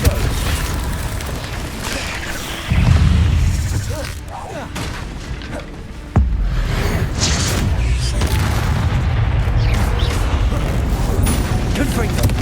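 Repeated fire-blast spell explosions in Hogwarts Legacy combat, heavy booming bursts that hit hard and sustain amid continuous game action and a player shouting spell names.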